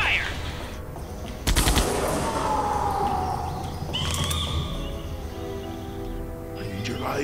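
Rapid gunfire bursts erupt in the Jurassic Park video game, a loud cluster of shots near the start followed by scattered reports under tense game ambience and alarm-like tones.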